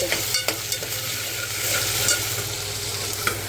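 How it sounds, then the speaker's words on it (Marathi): Ginger garlic paste sizzles steadily in a hot pan with whole spices while a spoon stirs and scrapes through it, the frying close and continuous with small clicks of the utensil. "आलं लसणाची पेस्ट टाकते हलत राहते"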